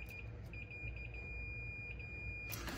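A multimeter beeps while testing continuity on a Boss V-plow's wiring, a thin steady tone with short breaks, ending in a burst of handling noise.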